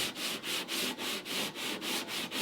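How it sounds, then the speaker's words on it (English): Rhythmic back-and-forth sanding of a wooden boat's inwale with a sanding block, about ten even rasping strokes in a steady rhythm, close and clear. "I'll take a sanding block and I'll try and get this justified up to that line up here"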